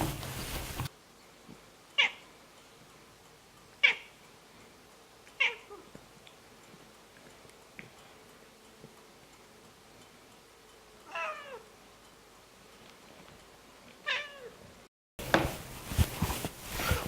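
A cat shown in Tuscany meows several times over a low steady hum, with short separate calls spread across the stretch and a longer wavering call near the end.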